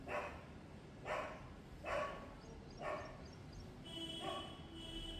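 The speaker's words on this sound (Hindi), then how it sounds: "कुत्ते तो भौंकते रहेंगे" A dog barks outdoors in five separate, evenly spaced barks, fairly close, against steady background noise.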